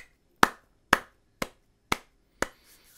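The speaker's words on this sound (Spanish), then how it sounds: "Aquí, un aplauso a Ibai." Five sharp, evenly spaced claps ring out one by one, loud and close, with short silences between them and no voices.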